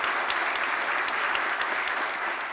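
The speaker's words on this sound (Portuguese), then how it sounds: "Uma grande salva de palmas a todos vocês." An audience at a young farmers' event gives a big round of applause, continuous dense clapping from many people at steady volume.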